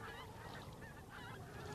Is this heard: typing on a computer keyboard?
no